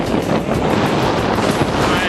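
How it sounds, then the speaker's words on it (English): Ocean waves and strong wind around a sailboat sailed single-handed down the coast toward Batemans Bay in three-metre seas, a loud, continuous roar with heavy wind buffeting on the microphone. "These waves were meant to be 1 or 2 metres and they're 3 metres."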